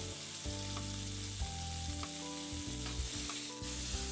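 Steak sears for tataki in a hot pan, a steady close sizzle running without a break under music.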